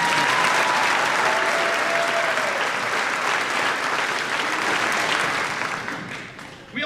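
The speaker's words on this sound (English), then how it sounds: "Let's give them a round." Sustained applause from a school graduation audience for graduating seniors with a 3.9 to 4.0 GPA, steady and dense clapping throughout before thinning out near the end.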